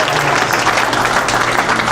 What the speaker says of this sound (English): Don't give her too much of a round of applause.